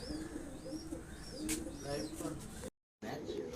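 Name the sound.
31 pigeons being released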